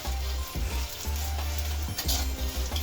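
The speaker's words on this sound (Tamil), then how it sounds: "சின்ன வெங்காயம் நல்லா வதங்கிட்டுருக்கு." Small shallot-type onions, about 200 grams, sautéing in a pan, a loud close hissing sizzle with a low rumbling burner hum and stirring scrapes breaking it up.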